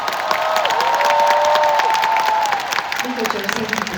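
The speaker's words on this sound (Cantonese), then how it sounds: "我希望得到大家最大力嘅掌聲，" Crowd clapping and cheering at a thank-you concert at Kai Tak, Hong Kong, loud and continuous, with a sustained sung or shouted voice carrying over it before fading.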